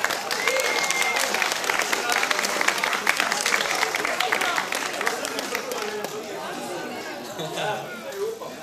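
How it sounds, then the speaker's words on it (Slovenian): A crowd applauds a football team at a charity football marathon trophy presentation, with dense, sustained clapping mixed with chatter that thins out toward the end. "Dajmo en velik aplavz za ekipo,"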